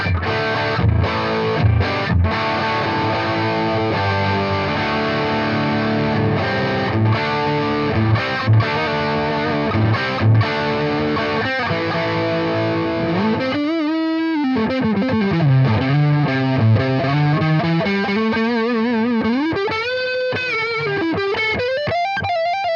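Electric guitar through a Fender Duel Pugilist distortion pedal with the gain near maximum, playing sustained heavily distorted chords and then bending, sliding lead notes, loud and continuous with no talking.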